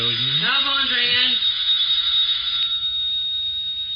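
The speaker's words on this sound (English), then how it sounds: "Telephone's ringing." A telephone bell rings continuously as a radio drama sound effect, a bright steady jangle heard under a voice at the start and then alone.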